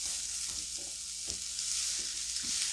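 Onions fry in a pan on the stovetop with a soft, continuous sizzle, broken by a few light clicks and scrapes as they are stirred, with no talking.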